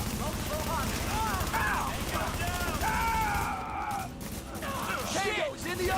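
Gunfire in the video game The Division, a dense, continuous clatter of shots and bursts running throughout under shouted voices and game dialogue.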